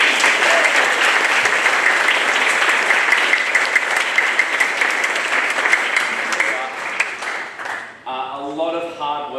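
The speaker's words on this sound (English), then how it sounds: "Please give her a round of applause." Loud, dense applause from a crowd fills the room, slowly tapering off before a voice starts talking near the end.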